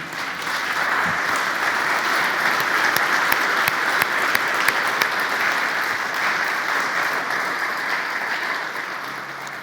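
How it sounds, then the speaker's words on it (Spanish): A church congregation applauds during a Christian sermon, a dense, steady wash of many hands clapping that holds loud and even throughout, with no talking over it. "Damos un aplauso a Él, siempre"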